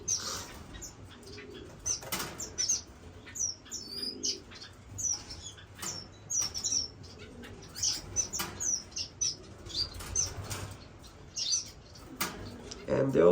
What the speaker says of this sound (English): And we got a saffron finch.